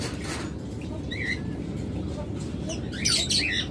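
A pair of non-ringed pet birds gives short, harsh squawks and chirps. The calls come close by over a steady low background, with a louder burst of calls near the end.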